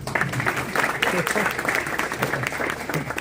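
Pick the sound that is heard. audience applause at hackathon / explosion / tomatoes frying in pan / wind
audience applause at hackathon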